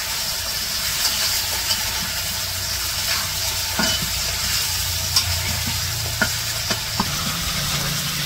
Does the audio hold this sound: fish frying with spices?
yes